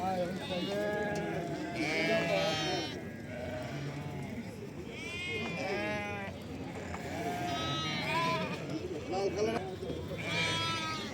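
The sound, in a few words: sheep bleating at a livestock market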